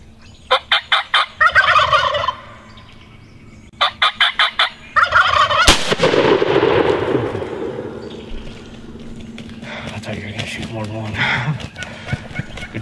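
A wild turkey gobbles during a hunt. Several sharp bursts of rattling gobbles come at close range, a loud crack follows, and then low voices speak over faint rustling.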